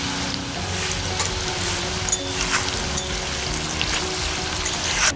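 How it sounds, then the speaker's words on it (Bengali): Sliced onions frying into crisp beresta for biryani, a dense continuous sizzle and crackle heard up close with occasional spitting pops, steady and fairly loud throughout. "বিরিয়ানির প্রিপারেশন করছি, বেরেস্তা ভাজছি"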